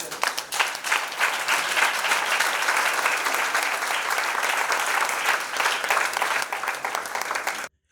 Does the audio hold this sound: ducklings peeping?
no